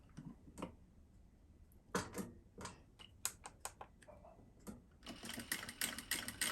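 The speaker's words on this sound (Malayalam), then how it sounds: "വളരെ സ്ലോയിൽ വേണം ഫസ്റ്റ് സ്റ്റിച്ച് കൊടുക്കാൻ രണ്ടാമത്തെ സ്റ്റിച്ച് വരുമ്പോൾ നമ്മൾക്ക് കുറച്ചും കൂടെ ഫാസ്റ്റായിട്ട് ചെയ്യാം" Sewing machine stitching along the edge of fabric during a home tailoring lesson, heard as bursts of rapid mechanical ticking that start slow and speed up, close and fairly quiet with no talking.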